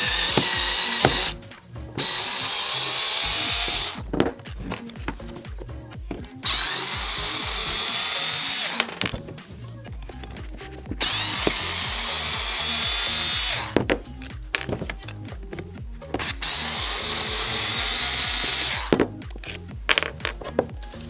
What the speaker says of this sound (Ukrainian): І тепер нам потрібно відкрутити ось ці ось гвинтики.